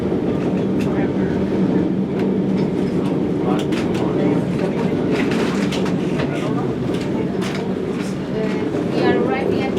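An old electric tram runs through Lisbon with a continuous loud rumble and rattling wheel noise, while squeals and clicks from the rails rise above it throughout.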